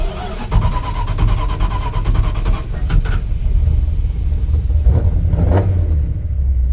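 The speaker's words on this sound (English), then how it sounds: "I wanted to crank it without tapping the gas or feathering or anything like that." A 1970 Dodge D100 pickup with its original 318 V8 cranks and starts without throttle, settling into a loud, deep, throbbing rumble close by, with some knocks and rattles over the engine.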